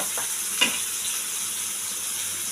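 Young spring onions fry in a pan with a faint, steady hiss and a single soft clink or stir near the start.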